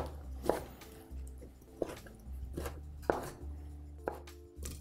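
A knife chopping food into pieces on a cutting board in a home cooking segment, a handful of sharp, spaced strikes over a low hum, fairly quiet and with no one talking.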